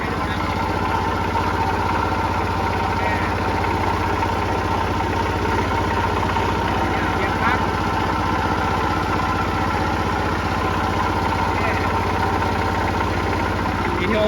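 A vintage Kubota L13G tractor engine runs steadily during a PTO test, a loud, constant close-up diesel drone with rhythmic chugging throughout, no change in pace.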